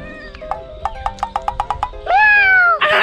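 A person mimics a cat's meow after eating ice cream, with a quick run of short squeaky mews followed by one long, loud, drawn-out meow.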